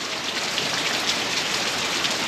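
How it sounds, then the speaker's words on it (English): Steady rain falls over a backyard homestead in late May, a dense, even hiss of drops on surfaces that stays loud and unbroken throughout with no voices. "as you can see, it's raining."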